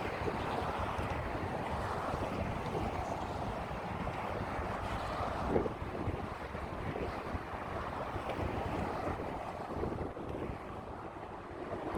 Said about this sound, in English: the wind is very strong today